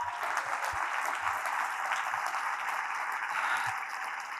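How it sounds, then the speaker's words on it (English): A conference audience applauds a business leader's remarks at a company vision-casting event, a dense, even wash of clapping that holds steady from start to finish with no voices over it. "So let's give a round of applause for that."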